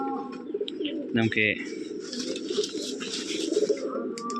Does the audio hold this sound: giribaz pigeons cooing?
yes